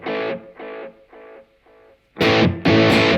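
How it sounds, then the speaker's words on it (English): Short electric guitar phrases through a Blackstar AMPED 2 amp's analog delay repeat as fainter, fading echoes, then louder strummed chords break in near the end. "So a pretty straight ahead delay"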